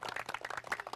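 Brief burst of rapid, overlapping hand claps from a group of students in a school classroom, steady and close throughout, no speech.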